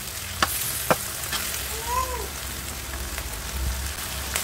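Cabbage and peanuts stir-fried in a pan give a steady, moderate sizzle, broken by a couple of sharp clicks from the utensil against the pan and a brief scraping stir partway through.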